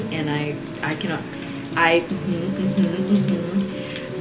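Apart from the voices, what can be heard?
crackling fire ambience from a Shire ASMR playlist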